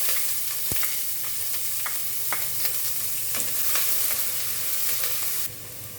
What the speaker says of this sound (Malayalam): കടുക് 1 ടീസ്പൂൺ ഇട്ട് കൊടുക്കാം. ഇഞ്ചി അരിഞ്ഞതിട്ട് കൊടുക്കാം.